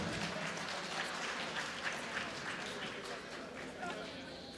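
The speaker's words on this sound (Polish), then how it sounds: "brawa dla obu zawodników" Applause rises from a crowd at an MMA event in honour of both fighters after a bout, a steady wash of clapping through the whole span with scattered cheers, heard from some distance in a large hall.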